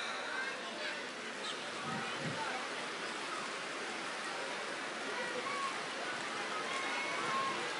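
Rain falling at night hisses steadily and evenly throughout, a dense constant wash of sound with no breaks.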